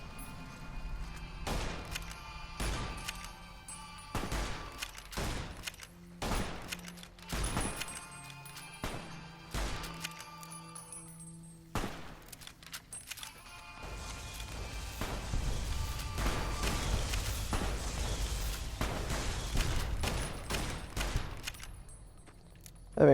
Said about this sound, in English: A shotgun.